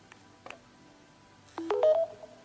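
A couple of soft short beeps, then a brighter rising two-tone electronic chime, like a device signalling a fast-charge connection.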